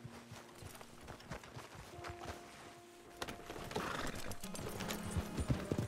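Horses galloping in Red Dead Redemption 2 Online, a dense patter of hooves in a low ambient mix with a faint tonal hum, growing busier and louder partway through.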